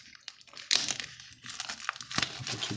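Small plastic coin bags crinkle and rustle up close while coins are unboxed, quiet irregular crackling bursts with brief pauses and no talk.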